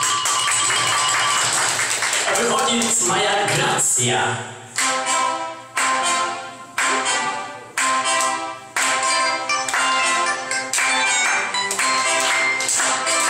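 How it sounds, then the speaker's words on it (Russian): Applause and an ovation break out, with rhythmic clapping that comes in bursts and breaks off repeatedly, while a voice speaks over the start. "Овации!"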